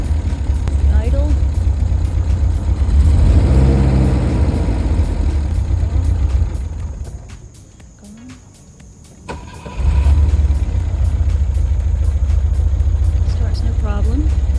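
A 1971 Volvo 1800E engine idles after a cold start, a steady, close, low rumble that dips briefly in the middle before returning to a full, even idle.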